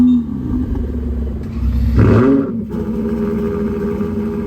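Two sports cars at the Miami Formula 1 Grand Prix start up and rev together, a steady close engine rumble swelling into a loud, rising rev burst before settling back to a throaty idle.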